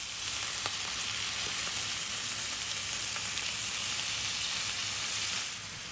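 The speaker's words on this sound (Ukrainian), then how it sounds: "Коли печінка добре підсмажилась з однієї сторони, перевертаємо її на іншу." Chicken liver frying in a pan, a steady, loud, continuous sizzle with soft crackles throughout, heard alone with no voices.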